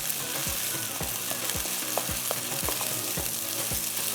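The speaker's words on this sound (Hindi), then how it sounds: "ये अब इसको आपने इस तरह से चलाते जाना है।" Bread halwa is stirred in a sizzling pan, with a steady frying hiss beneath regular scraping strokes of the spoon, close and even in rhythm.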